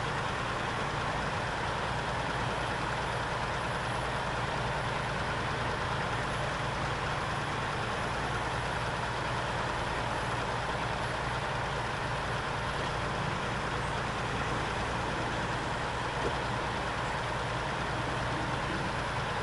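A logging truck engine in the SnowRunner video game drones steadily with a deep, constant rumble throughout, a dense, unchanging mechanical roar with no talking.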